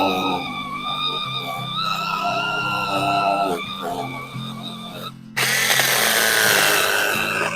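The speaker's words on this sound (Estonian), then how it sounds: "Vaatame, äkki sellega läheb libedamalt see laua saagimine." A new power saw cuts wooden floor boards with a loud, sustained whine that shifts pitch under load, briefly stops, then restarts into a harsher, noisier cut.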